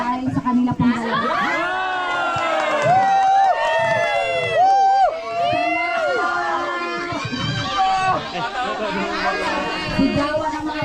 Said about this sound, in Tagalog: Sigawan ng mga bata, maraming salamat.